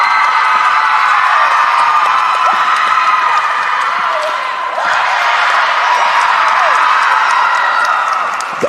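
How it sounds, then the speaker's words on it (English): Loud, sustained crowd cheering and applause with whoops fills an arena for a college acrobatics and tumbling athlete, swelling steadily across the whole stretch with a brief dip midway. "Taryn Colfinson getting a very large round of applause"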